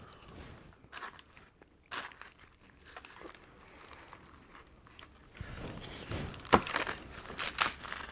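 Crunching sounds from a KFC pot pie in Japan, scattered close crinkles and crisp bites, growing louder and busier toward the end, with no talking.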